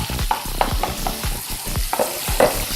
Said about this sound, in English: Stir fry it a little bit.